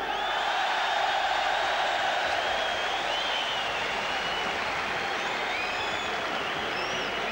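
A boxing crowd at the Frank Bruno versus Walter Santemore heavyweight fight cheers and applauds for Bruno's introduction. The roar is a steady, fairly distant wash of clapping and shouts that lasts throughout.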